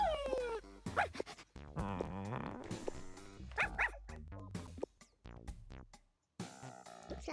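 A cartoon dog in the Toca Boca video game gives a string of short barks and yips, mixed with grunting game sounds and music. Each bark comes in a quick burst, with a short silent gap late on.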